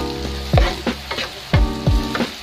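Garlic frying in a pan for tofu with kangkong, a steady sizzle broken by several loud clanking stirs of the utensil against the pan.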